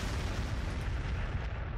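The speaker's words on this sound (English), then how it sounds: "Frag missiles. And frag missiles." Frag missiles firing and exploding in the Warhammer 40,000: Sanctus Reach strategy video game, a continuous rumbling barrage of blasts and booms, fairly quiet and sustained.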